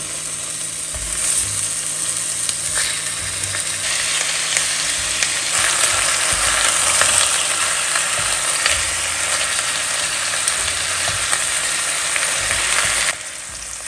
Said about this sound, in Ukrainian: Після того, як олія розігрілася, викладаємо реберця, щоб підсмажилися.